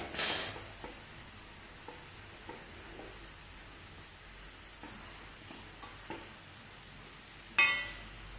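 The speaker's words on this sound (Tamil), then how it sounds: "அதில் இந்த அரைச்சி வச்சுருக்கதை கொட்டி நல்லா கிளறி கொடுக்கணும்." Ground coconut paste being stirred into a tender coconut leaf thuvaran in a pan, soft scraping strokes repeating at a steady pace over a faint sizzle, with a sharper clatter of utensils at the start and near the end.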